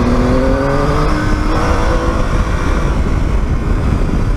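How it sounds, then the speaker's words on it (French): A supermoto motorcycle accelerating hard along a winding road, its engine revving in a loud, constant buzzing roar with rising pitch, heavy wind rush, and no voices. "Là, j'ai mis un trou à la supermote alors."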